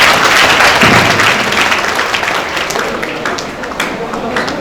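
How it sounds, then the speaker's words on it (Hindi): Audience applause for children at a school Gandhi Jayanti programme staging a Hindu-Muslim unity drama, a dense wash of clapping under someone talking over it. "जरा जोरदार तालियों के बीच"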